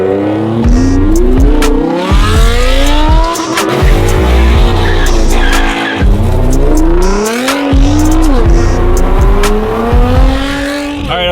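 Several sports cars rev hard and accelerate away close by, engines climbing through repeated gear changes with whistling, jet-like turbo tones and brief tire squeals, loud and continuous.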